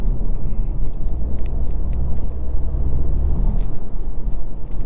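A 2024 BMW X1 M35i with its turbocharged engine pulling hard under acceleration, a steady close, loud rumble with constant road noise and no clear blow-off hiss standing out.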